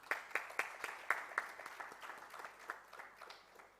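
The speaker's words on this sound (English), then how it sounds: "Ladies and gentlemen, huge round of applause." Applause from a small audience at a healthcare summit after a lamp-lighting ceremony: scattered, fairly faint claps that thin out and fade over a few seconds.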